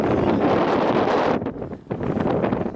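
Strong wind buffets the microphone outdoors on a sunny day with scattered clouds, a loud, steady roar that drops briefly and then surges back, with no voices.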